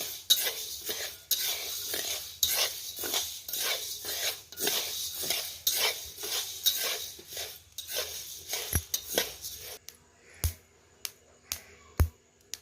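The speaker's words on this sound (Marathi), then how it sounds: "उडायला लागलेले आहेत फडफड करायला लागलेले आहेत म्हणजे आपले उडीद भाजून झालेले आहेत" Urad dal roasting in a pan for flour, stirred steadily with a utensil in a rhythmic rasping scrape, then giving way to sparse, sharp pops and ticks as the lentils start to jump, close and fairly quiet.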